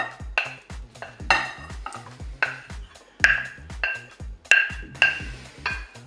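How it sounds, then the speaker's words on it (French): Piedmontese potato salad with eggs being stirred in a salad bowl, a run of sharp clinking and scraping knocks of a utensil against the bowl at a rough, irregular rhythm, close and fairly loud. "Je vais mélanger bien sûr. Alors, on mélange délicatement."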